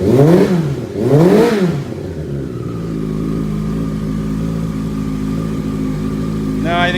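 A 2005 Yamaha R6 motorcycle engine in poor condition, blowing oil smoke, revs twice in quick bursts up close and then settles into a steady, loud idle hum.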